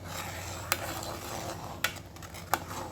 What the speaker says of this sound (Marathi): मधून मधून सारखं हलवायचं म्हणजे खाली लागत नाही ते दूध असं पाच मिनटं चांगलं हलवायचं